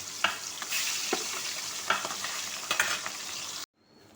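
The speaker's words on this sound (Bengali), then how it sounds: "ঠিক একইভাবে আরও যে বেঁচে রাখা মাছগুলো সেগুলো ভেজে নিই।" Pieces of rohu fish fry in hot oil with a steady, crackling sizzle, punctuated by several sharper spatters and utensil scrapes, close and loud until it cuts abruptly to near silence at the end.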